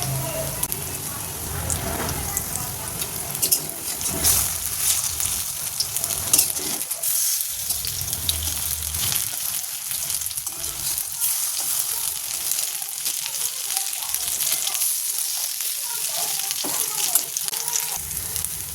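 Poppy seed fritters (posto bora) frying in hot oil at home, giving a steady close sizzle and crackle throughout, with stirring noises over it.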